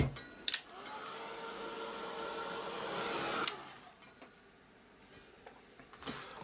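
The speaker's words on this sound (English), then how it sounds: "Okay, let's just dry that off quick." A hand-held tool blows a steady, loud rush of air over an altered mixed-media book page for about three and a half seconds, then cuts off, leaving faint handling clicks and taps.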